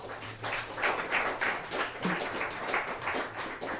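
A small audience claps after a song on a live show, a light, uneven patter of fairly few hands at moderate volume.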